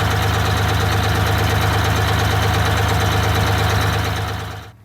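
An Eagle bus's Detroit Diesel 6V92TA turbo engine, which has boost problems, idles loudly and steadily with a deep, even throb and knock, then cuts off and fades out right at the end.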